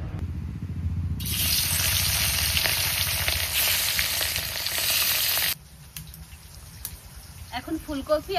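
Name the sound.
whole cumin seeds frying in hot wok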